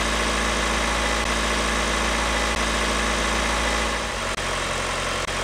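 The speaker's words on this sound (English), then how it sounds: "Finally, now it's time to touch Jayden's car engine." A car engine runs in a continuous loud, steady hum with a deep rumble, unchanging for several seconds before a slight dip near the end.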